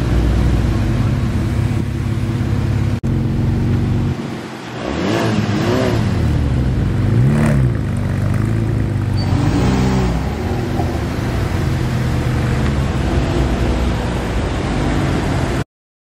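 A 991-generation Porsche 911 Speedster arrives at a Porsche gathering at Beaulieu's National Motor Museum. The flat-six engine hums steadily, then rises in several sharp revving sweeps midway before settling back into a loud, close idle-like drone.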